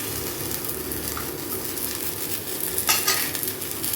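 Mint and coriander leaves fry on high heat with a loud, dense sizzle throughout, and a spoon clinks and scrapes against the pan now and then in one brief stirring burst.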